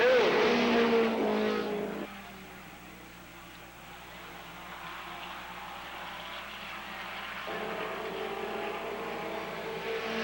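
Race cars speed around a track during a green-flag racing event, engines roaring loudly at first, then dropping to a steadier, more distant drone with a faint tire-skid edge before the noise swells again.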